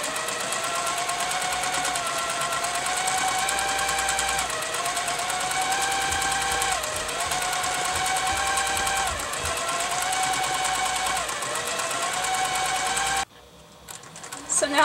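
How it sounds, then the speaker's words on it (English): Sewing machine stitching quilted feathers on a quilt, a steady, fast, whirring hum of needle strokes with slight pitch dips as the stitching changes direction, then stopping abruptly near the end. "So now let me show you how these feathers work as I'm stitching downwards towards myself."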